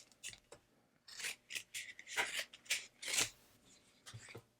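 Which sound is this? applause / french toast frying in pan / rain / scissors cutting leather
scissors cutting leather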